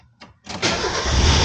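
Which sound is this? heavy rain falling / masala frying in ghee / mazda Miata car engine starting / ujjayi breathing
mazda Miata car engine starting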